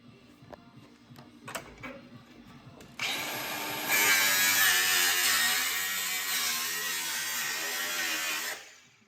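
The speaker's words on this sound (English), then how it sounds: "Get the sawzall up there now. Straight through the tyre." Sawzall reciprocating saw cutting through a car tyre, a harsh buzzing rasp that starts abruptly after quieter clanking, grows louder, holds steady for several seconds and then cuts off.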